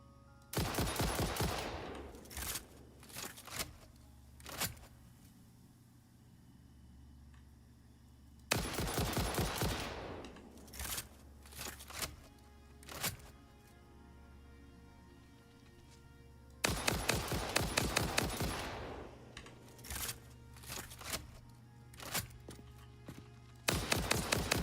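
Rapid automatic gunfire in a video game, aimed at a big spider, comes in three loud sustained bursts separated by scattered single shots and quieter gaps.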